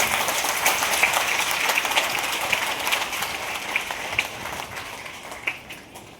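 An audience at a Haryana seminar claps steadily for several seconds, a dense patter of many hands that gradually thins and fades toward the end.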